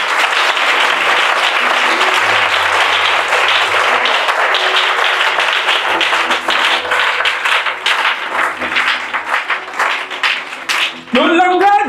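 A church congregation breaks into sustained, dense applause acclaiming Jesus, loud and steady throughout with scattered cheering voices, fading into a few last claps before a voice rises at the end.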